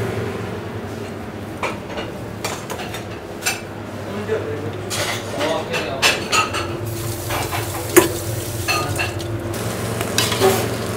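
Basmati rice stirred as it fries in ghee in a pan, a continuous close sizzle with frequent scraping and clattering of a utensil against the pot, some louder knocks, and talking at moments.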